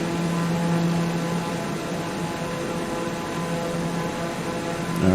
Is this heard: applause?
no